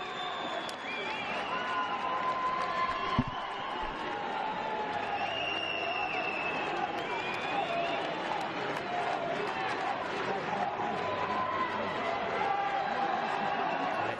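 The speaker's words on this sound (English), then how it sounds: "Listen to the roar for the Italian as he comes off" Dense crowd roar at a youth football final, Sassuolo U19 against Roma U19, rising as an Italian player is substituted off, a steady broad swell of cheering and applause with a commentator talking over it.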